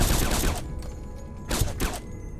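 Gunfire in Fallout: New Vegas inside a cave with Night Stalkers: two loud, close bursts of rapid shots separated by a short pause, with no talking.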